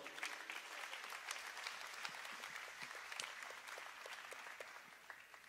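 A church congregation applauds during a worship service, giving steady, dense clapping from many hands at a moderate distance that carries on evenly throughout.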